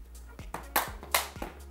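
Children clap their hands during a volleyball bump-and-catch exercise in a primary school sports lesson, with several sharp claps spaced irregularly over a quiet room background.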